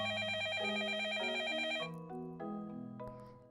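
A telephone rings in the dating sim game Up All Night, a bright electronic ringtone trilling steadily before breaking into a short descending melodic phrase, clear and alone.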